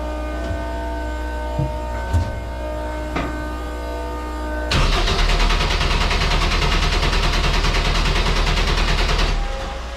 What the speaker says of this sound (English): So let's crank it and see if it starts running.